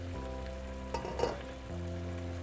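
Pork for chicharrón pupusas sizzling in a pan as its cooking liquid boils away: a steady crackling fry under a constant low hum, with a brief stir-scrape in the middle.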